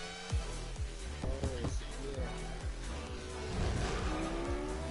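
A car drives in a Fortnite race mode video game, the engine revving and shifting with repeated tire squeals and skids, loud and continuous under faint background talk.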